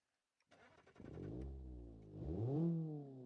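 An Ibishu Miramar GTz in the BeamNG.drive game cranks briefly on its starter, then catches and settles into a steady idle before revving up once, close and fairly loud.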